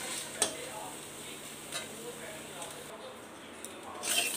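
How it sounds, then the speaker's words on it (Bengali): Spiny gourd (kakrol) pieces fry lightly in a covered pan, giving a faint, steady sizzle with a few soft clinks of utensils and the lid. "সেই জন্য আমি এরকম হালকা করে একটু ভেজে নিচ্ছি"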